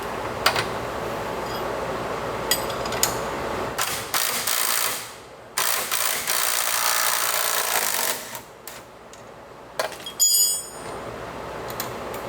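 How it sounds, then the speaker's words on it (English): Jacking up a Jeep with a bent sway bar to free a bolt under pressure: steady mechanical ratcheting and clanking with sharp metallic ticks, stopping and restarting several times, close and fairly loud. "The fun part about having a bent sway bar is you have to jack it up to get the bolt out."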